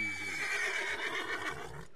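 A horse whinnies in Red Dead Redemption 2, a loud, drawn-out neigh with a falling pitch, carried close and alone across nearly the whole moment before fading at the end.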